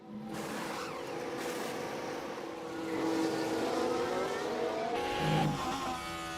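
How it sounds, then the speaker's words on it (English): A race car in the F1 Manager 24 racing game has its wheels lock up after a hit at the start, with a droning engine and a rising tire squeal in a faint, steady skid. "The wheels just lock up there, just unable to control the car."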